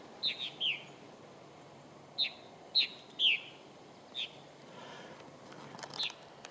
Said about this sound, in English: Have you ever heard a purple martin before? Well, now you have.